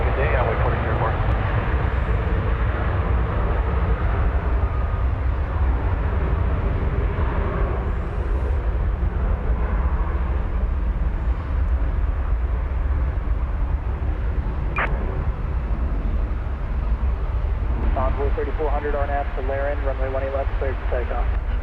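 An Envoy jet airliner takes off at DFW Airport, a continuous loud engine roar running throughout, with radio talk and voices over it.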